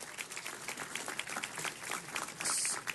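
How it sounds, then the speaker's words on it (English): Quiet applause at a city council meeting honoring a high school championship team, scattered clapping heard from a distance with a faint high tone near the end. "Give them a round of applause"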